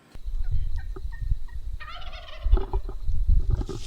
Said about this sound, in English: You can actually hear this Tom gobble in this video.